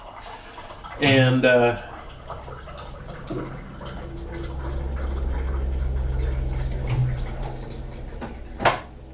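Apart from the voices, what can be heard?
filling up a mug with water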